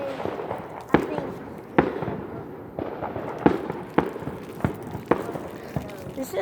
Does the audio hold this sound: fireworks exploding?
yes